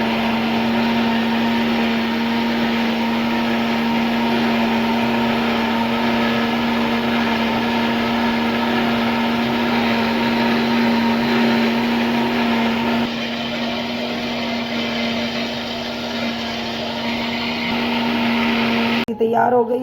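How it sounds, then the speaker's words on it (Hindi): Kitchen mixer grinder blending lassi, a loud steady whirring motor drone with a constant hum, running nearly twenty seconds before cutting off at the end. "अब मिक्सी में लस्सी बनाते हैं"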